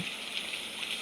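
Rain falls on a very rainy day, making a soft, continuous hiss with faint patters. It is quiet and even throughout, with no voices.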